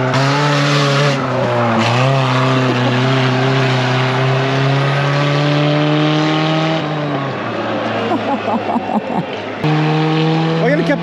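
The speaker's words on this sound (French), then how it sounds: "Regardez, écoutez le bruit de la Twingo échappement libre." Renault Twingo with a detached exhaust at a destruction derby, its engine a loud, raw, steady drone with shifting revs and a brief dip, close by, with people talking over it.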